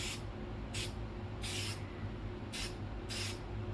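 A spray can sprays clear coat over spray paint art in five short hissing bursts, each about a third of a second with brief pauses between, close and crisp over a quiet background.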